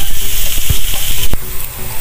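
Garlic sautés in hot oil for adobong kangkong, giving a loud, close, dense sizzle with a sharp clatter or two of a utensil.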